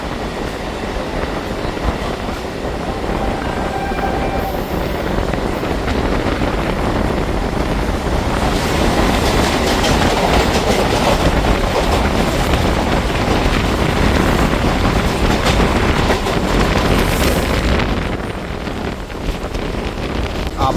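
A Madhyamgram to Majherhat local train runs on toward New Barrackpore, a loud, continuous rumble of wheels and carriage noise with wind buffeting, swelling mid-run then easing slightly.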